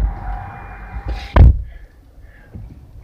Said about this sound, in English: let's close these doors here